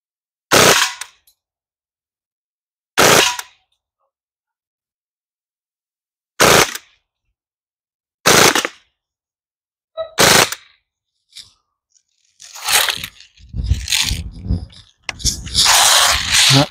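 An Umarex HK416 .177 BB gun air rifle fires at a can target: six sharp, loud pops come singly a few seconds apart, then a longer stretch of rattling, scraping handling noise.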